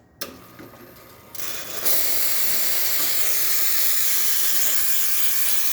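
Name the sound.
Lelit Bianca espresso machine steam wand hissing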